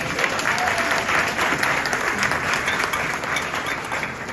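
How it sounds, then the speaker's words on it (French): Sustained audience applause at a live children's quiz show about Haiti, a dense steady wash of clapping from a crowd, fairly loud and continuous without talk. "Juste pour ça, applaudissez parce que c'est incroyable."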